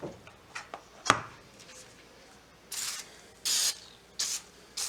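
Oven cleaner sprays onto a saw blade in several short, hissing bursts, close and fairly quiet, after a few light taps and handling knocks.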